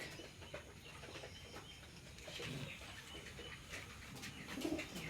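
Racing pigeons with club leg tags, including red checker birds, coo softly and repeatedly amid a dense, busy loft background, with a few brief louder calls and rustles.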